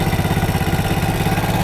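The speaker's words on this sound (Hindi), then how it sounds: "अपनी बाइक को जो है स्टार्ट कर लिया है।" A motorcycle engine idles steadily and close by at raised RPM during air/fuel mixture screw adjustment, its low, even chugging pulse holding a constant rhythm with no voices.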